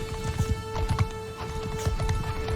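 Horse archers gallop in a cavalry battle in the video game Mount and Blade: Bannerlord, with steady close hoofbeats thudding in overlapping rhythms over a constant tonal game hum.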